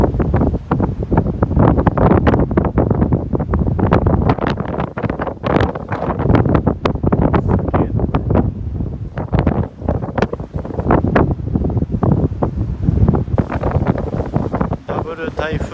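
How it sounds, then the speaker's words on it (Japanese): Strong gusty wind ahead of a double typhoon on a shore facing Kudaka Island roars across the microphone in continuous loud buffeting bursts, with a voice briefly present. "風を感じるです。"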